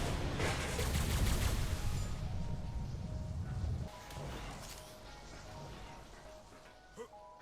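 Rapid bursts of gunfire tear down base structures in the video game ARK, a dense loud fusillade for several seconds that eases into quieter crashing and rattling debris, with one sharp shot near the end.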